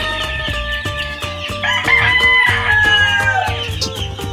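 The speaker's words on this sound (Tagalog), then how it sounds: "At yung mga manok dito ay nakapakaingay." Chickens cluck repeatedly up close while a rooster crows loudly in the middle, with a busy farm chorus of fowl throughout.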